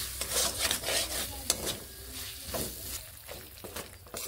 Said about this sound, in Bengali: মটরশুঁটি দেওয়ার পরে একটু ভালোভাবে কষিয়ে নেব যাতে মটরশুঁটির কাঁচা ভাবটি চলে যায়।